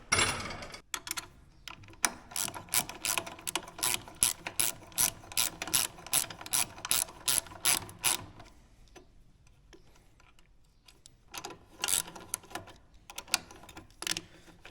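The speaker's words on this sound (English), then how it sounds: "Ratchet." A hand ratchet tightens used bolts with gunked threads, making rapid, loud, close clicking in a long steady run, then a pause with scattered clicks and a second, shorter burst of ratcheting.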